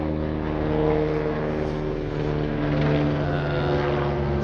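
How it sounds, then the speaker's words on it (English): Steady low droning rumble of a helicopter passing over a Melbourne backyard garden, loud and continuous with gentle swells, without any speech. "Now I've got a helicopter."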